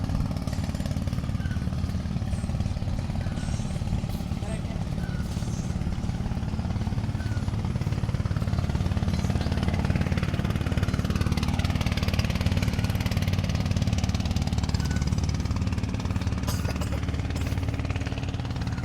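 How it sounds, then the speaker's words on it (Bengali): An engine boat on the Jamuna River near Tangail in rural Bangladesh throbs with a steady, loud low-pitched motor drone. It rumbles continuously as it passes, with a faint shift in tone midway. "যমুনা নদীর ধারে এই তো নৌকা যাইতাছে।"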